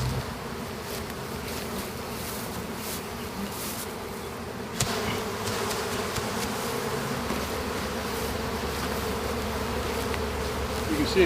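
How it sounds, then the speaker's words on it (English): A steady, dense buzzing drone of many honeybees fanning close by at a hive after being smoked, holding constant throughout with slight swells. "the sound of those bees fanning when I smoke them"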